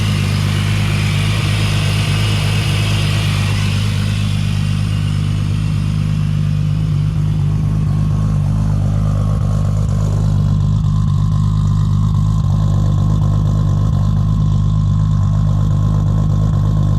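Toyota Supra engine idling through a full exhaust, a steady low rumble with constant drone that holds evenly and loudly throughout, close by and without speech.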